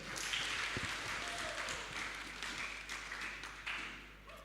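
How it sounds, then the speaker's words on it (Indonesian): Audience applause for a team at a spiritual quiz contest during the 2022 Pesparani Nasional II, a steady, dense roar of clapping filling the hall for the whole stretch without letting up. "Tepuk tangan untuk regu B."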